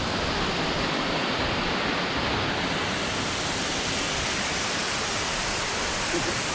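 A waterfall in Sri Lanka roars as a dense, steady rush of falling water, loud and continuous with no breaks.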